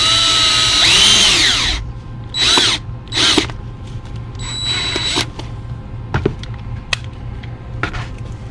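Cordless power drill driving small screws into a broken high-heel shoe, with several short whirring bursts of rising and falling pitch separated by clicks and handling noises.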